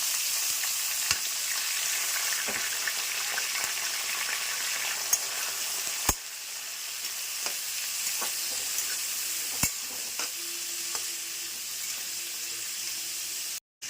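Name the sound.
vegetables frying in a pan: peas, capsicum, carrot, onion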